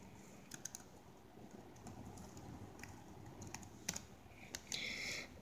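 Quick, light clicks of a username being typed on a computer keyboard, irregular bursts of keystrokes close to the microphone in a quiet room.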